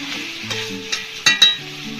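Chicken biryani masala stirred and fried in a pan: a soft, continuous sizzle under a few scraping stirs, with two sharp clinks of a utensil near the end.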